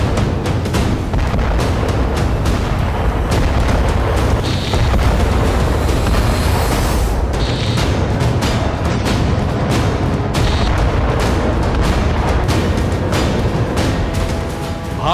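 Missile strikes in Ukraine produce loud, continuous rumbling booms and dense blast noise, with repeated sharp bursts and crackling hits packed throughout.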